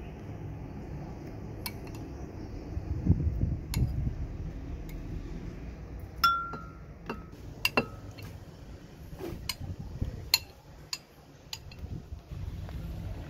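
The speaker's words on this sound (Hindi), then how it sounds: "अब इसको जग में डालेंगे" Cut mango pieces are dropped into a jug while preparing a mango milkshake, giving soft thuds and scattered light clinks and taps of utensils and container close by, with no talk.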